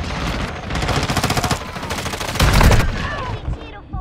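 Gunfire in Call of Duty: Modern Warfare II, loud rapid automatic bursts with a heavy booming blast near the middle and sharper single shots trailing off.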